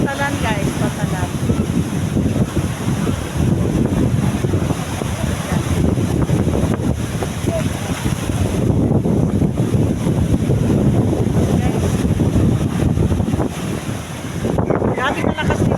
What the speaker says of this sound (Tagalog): Grabe malakas dito ng hangin guys.